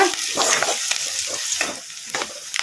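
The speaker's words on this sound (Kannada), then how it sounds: "ಉಳ್ಳಾಗಡ್ಡೆ ಒಂದು ಸ್ವಲ್ಪ ಫ್ರೈ ಆಗೋವರೆಗೂ ಫ್ರೈ ಮಾಡ್ಕೊಂಬಿಡೋಣ ಈ ಥರ ಕಲಿಸ್ಕೊಂತ" Onions frying in a pan crackle and sizzle while being stirred, with repeated scraping strokes of a spoon in an uneven rhythm, close up and without talk.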